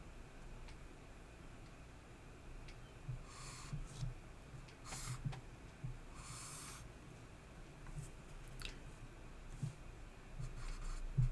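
Pen or marker strokes scratching across a surface as a small table is sketched by hand during a semiconductor physics lesson, soft intermittent scribbles over a quiet background.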